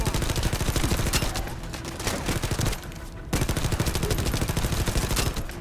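SMG gunfire in the video game The First Descendant: loud, rapid automatic bursts with a tight rhythmic rattle, broken by a brief lull before the firing resumes.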